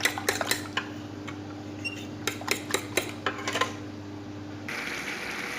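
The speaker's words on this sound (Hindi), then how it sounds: "अंडे जो हमारे हैं इनको हमने तोड़ के बॉल में डाल, इसको हम अच्छी तरह फेंट लेंगे इस तरीके से" Eggs whisked in a bowl, a quick run of light metallic clicks and taps of utensil against the bowl in short bursts, close and fairly quiet over a low background hum.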